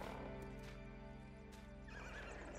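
A horse in the Ghost of Tsushima video game whinnies and snorts while hooves clop, faint and close with a steady low hum underneath, no talking.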